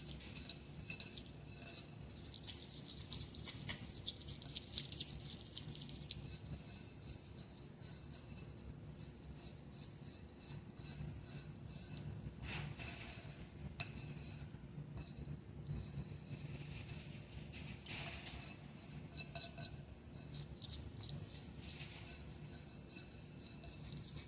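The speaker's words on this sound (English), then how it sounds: "Even right now, I'm stirring slip" Pottery slip being stirred up in a container, a quiet, continuous scraping and sloshing with faint clinks, uneven in rhythm and soft throughout.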